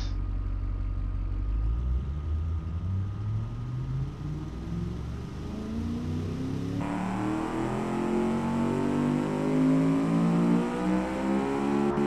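A sports car engine of about 600 horsepower in the Automation game revs steadily higher and higher, its loud tone climbing through repeated gear-like rises with no talk over it.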